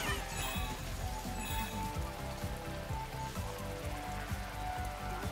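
Rain falling in the video game Astro's Playroom, a steady dense patter heard continuously at moderate level.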